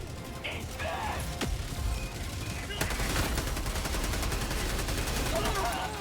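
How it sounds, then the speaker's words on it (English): Helldivers 2 sentry turret firing in the video game, a sustained rattle of rapid automatic shots with mechanical clanks, continuous and fairly loud over game ambience, with a voice briefly heard. "Calling down a sentry!"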